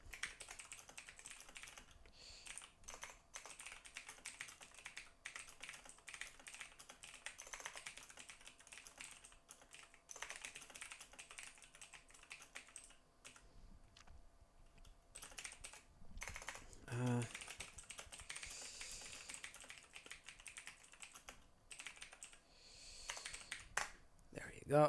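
Quick bursts of typing on a computer keyboard, irregular clusters of light key clicks with brief pauses, recorded faintly and close, with low background murmur around them.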